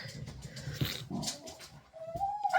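A dog indoors whimpering and whining in short broken bursts with soft snuffles, ending in a rising high-pitched whine, close and moderately loud with no talking.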